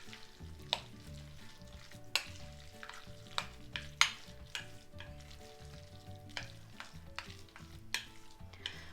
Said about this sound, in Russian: Перемешиваем фарш.